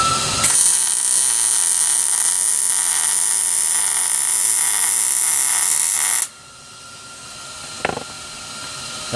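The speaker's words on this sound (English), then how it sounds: "What I'll do is I'll weld, an inch at a time and kind of go all the way around it." MIG-style welding on a 16-gauge steel exhaust pipe of a Chevy Impala during a muffler replacement, a steady loud crackling buzz running for about six seconds before cutting off, followed by a brief clank.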